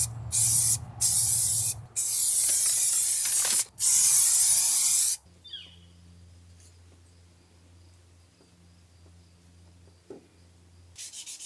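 Spray paint hisses onto a 1994 GMC Vandura van in several loud bursts of a second or so each, separated by short pauses, followed by a quieter stretch with a faint low hum and small handling sounds.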